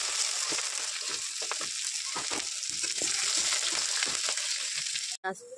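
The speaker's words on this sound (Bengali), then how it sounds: "দিয়ে দিচ্ছি পেঁয়াজটা আমি লাল লাল করে ভেজে নেবো।" Chopped onion frying in hot oil with bay leaf and five-spice tempering in a home kitchen, a steady close sizzle with scraping stir strokes, no talk, cut off abruptly near the end.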